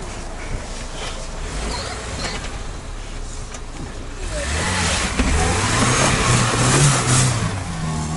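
A Subaru Forester STI with a six-speed manual gearbox revs its engine while crawling over a diagonal traction test rig. The engine is loud and close, rises in pitch midway and varies with jerky throttle, with faint voices in the background.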